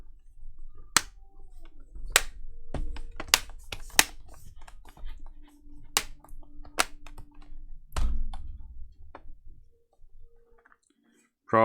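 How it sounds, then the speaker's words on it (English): The back cover of a part-melted Dell Inspiron laptop clicks into place during a re-case. Sharp, separate plastic snaps and clicks come at uneven intervals, close and fairly loud, with handling noise between them before a short quiet stretch. "Probably should have powered it on before clicking this back cover on"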